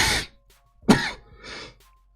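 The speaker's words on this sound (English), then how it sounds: "I'm about to like cough, and I don't want to" A person coughs hard a few times, a sharp burst followed by two or three rougher, throaty coughs, close and alone with no talk.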